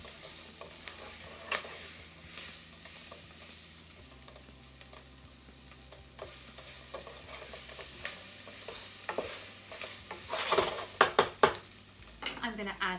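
Onion soup ingredients sizzle in a hot pot while a spoon stirs and scrapes, close and continuous, with occasional clinks against the pot and no talking.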